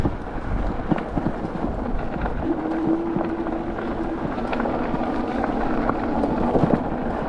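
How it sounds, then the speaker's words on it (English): Steady, rumbling wind buffets the microphone while someone rides a Puckipuppy Goldenr e-bike on the road. The blustery roar is close and continuous, and there is no speech. "boy, is that wind here"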